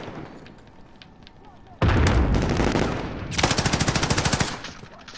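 Heavy gunfire in the Call of Duty Modern Warfare video game: a loud sustained burst erupts partway in, then a rapid rhythmic automatic volley follows, close and dense with explosive weight.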